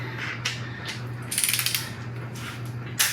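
A ratchet tightens bolts during final assembly of a Chevrolet Silverado quad cab, with loud close bursts of rapid clicking ratchet pawl strokes and a steady hum underneath.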